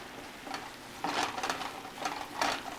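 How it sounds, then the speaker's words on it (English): Baby portobello mushrooms are stirred in a pan, giving soft scraping and shuffling with a faint sizzle underneath, quiet and close, in a few gentle strokes. "And I'm just going to stir these."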